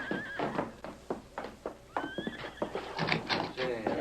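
A horse whinnies with high wavering calls amid radio-drama activity, with hoof and door thuds and someone talking over the scene; the neighs come in short bursts, clearly audible but mixed with voices.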